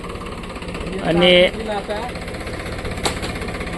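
A tractor engine runs with a low, steady rumble during wedding preparations, heard under a brief spoken word.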